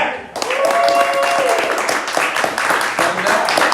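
Audience applause and cheering for comedian Jack at a comedy roast-battle show, a dense, sustained wash of clapping that swells after a brief pause and carries on steadily, with shouts and voices mixed into the crowd noise.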